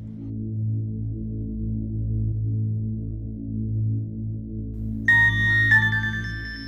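A phone ringtone starts near the end as a bright, repeating electronic melody over a steady low tonal hum, heard alone and close without any talk.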